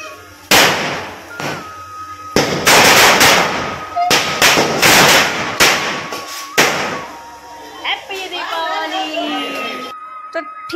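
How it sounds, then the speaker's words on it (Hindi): Firecrackers burst in a residential street during Dhanteras: a run of loud, close, sharp bangs and crackling pops in irregular clusters, with voices of people nearby. "पटाखे फोड़ना शुरू"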